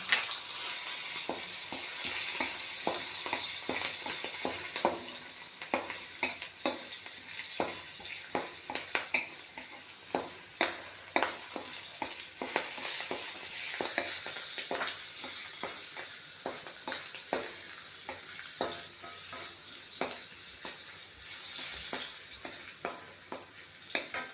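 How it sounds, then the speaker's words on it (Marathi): Green chili and curry leaves sizzle and crackle steadily in hot oil, with dense spitting pops and sharp crackles throughout, close and continuous with no talking. "तर ह्यामध्ये मी ही 1 हिरवी मिरची आणि कढीपत्ता घातला."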